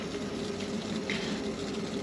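Hot water runs steadily into a tub mixed with dish soap for soaking a moose skull, a constant close rushing and splashing fill with no talk.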